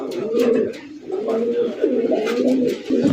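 Red Lahori pigeons coo in a steady, low, throaty rhythm, the rolling calls repeating close by and fairly loud over a short stretch.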